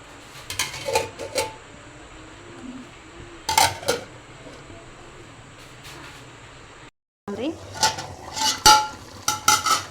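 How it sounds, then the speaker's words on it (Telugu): A pot of fish curry bubbles steadily on the stove, with occasional clinks and scrapes of a utensil against the pan. "చూడండి ఉడుకుతుంది కదా"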